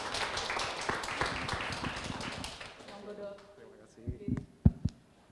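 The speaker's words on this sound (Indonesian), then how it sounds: "tepuk tangan yang meriah untuk dokter Hadi" An audience at a hospital community gathering in Surabaya claps for a doctor, a burst of brisk applause that thins out after a few seconds, followed by a few isolated sounds near the end.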